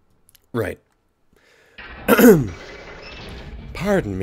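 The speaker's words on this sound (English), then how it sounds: "Pardon me for clearing my throat." A person clears their throat with a short rough rasp, surrounded by brief vocal sounds and murmuring in a quiet room.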